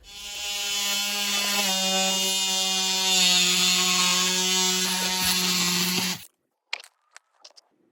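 A steady, loud oscillating power tool shaving down spray foam insulation flush with a wall stud drones for about six seconds with a constant buzzing whine, then cuts off, leaving a few faint clicks and taps.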